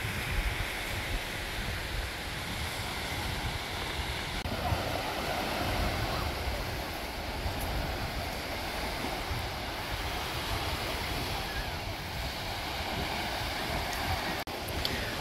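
Broad, steady wash of surf and wind noise at Tumby Bay on the Eyre Peninsula, rushing continuously at low level with no distinct breaks, like standing on a breezy beach.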